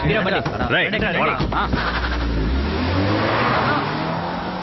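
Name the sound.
vehicle engine starting and revving in a movie scene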